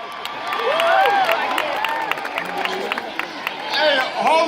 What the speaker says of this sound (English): I heard some people booing.